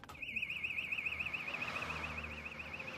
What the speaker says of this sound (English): the alarm bell's going off